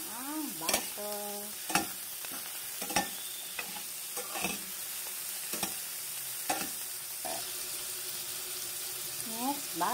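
Butter sizzles in a pan while shrimp cook, a soft steady frying hiss broken by sharp stirring clatters and utensil taps, with brief voice fragments and water running faintly.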